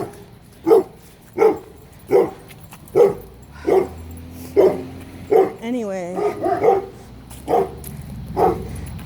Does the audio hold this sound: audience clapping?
no